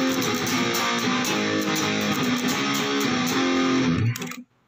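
Electric guitar played through a mildly overdriven crunch amp setting for a Nirvana-style sound, strummed continuously and loud for about four seconds before cutting off abruptly into silence.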